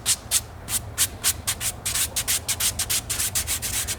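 A sanding pad rubs gently over the Alcantara and leather interior of a matte BMW F10 M5, in rapid back-and-forth strokes that make close, rhythmic airy swishes with no voices.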